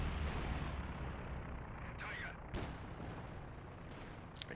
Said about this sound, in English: And here comes the actual rockets, or the flak